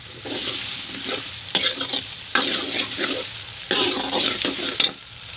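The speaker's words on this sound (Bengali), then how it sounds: "সব মশলাগুলো দিয়ে দিয়ে এখন আমি এটাকে কষিয়ে নিচ্ছি" Spiced minced meat sautéed in a pan, a metal spoon scraping and stirring in repeated bursts over a steady sizzle, close and fairly loud, with no voices.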